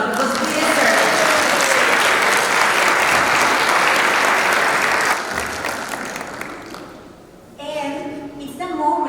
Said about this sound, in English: So let's give us a big applause because we deserve it.